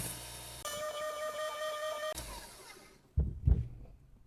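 A powered sharpener grinds a small camp hatchet at a 25-degree bevel, giving a close, steady whine with a pitch shift, then it spins down and a couple of clunks follow.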